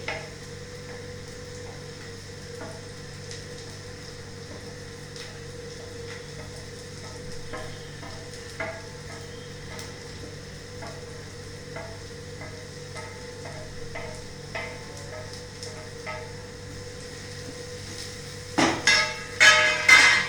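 Capsicum tipped into a pan of softened frying onions and stirred, with a steady low sizzle, scattered light scrapes and taps of a spoon against the pan, and a louder burst of clatter and stirring near the end.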